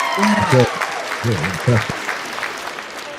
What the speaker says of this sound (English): you got to get claps on that, brother